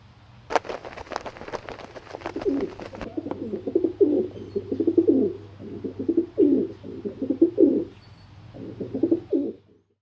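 Pigeon cooing close by in a repeated rhythmic series of soft low coos, preceded by a brief burst of flapping or rustling, loud and alone without talk.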